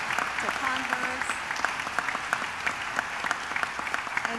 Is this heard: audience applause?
yes